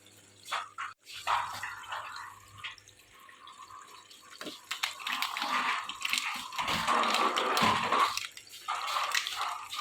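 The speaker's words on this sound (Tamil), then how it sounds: "நல்லா அழகாக தண்ணியெல்லாம் ஃபில் ஆன பிறகு அதுவே அழகாக வந்து வாஷ் பண்ணி ஸ்பின் பண்ணி ரின்ஸ் பண்ணி கொடுத்துடும்" Water pours and drips as a Sansui washing machine fills its drum, a steady trickle that grows louder and fuller toward the end, with scattered splashy drips and no talking.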